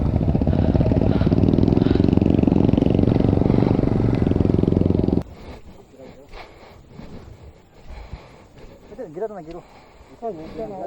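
Motorcycle engine roaring loud and steady on an extreme off-road climb for about five seconds, then cutting off abruptly, leaving wind, faint rustling and scattered distant voices.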